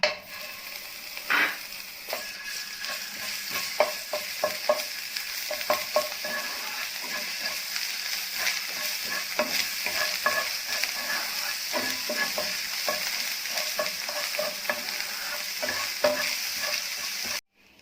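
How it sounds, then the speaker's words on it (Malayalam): Ginger garlic paste sautéing in hot oil for soya 65, a steady dense sizzle with frequent scraping stir clicks of a spoon against the pan, close and continuous with no talking. "ഇനി നമുക്ക് ഇതേ എണ്ണയിൽ തന്നെ ജിഞ്ചർ ഗാർലിക് പേസ്റ്റ് ഇട്ട് ഒന്ന് വഴറ്റി കൊടുക്കാം"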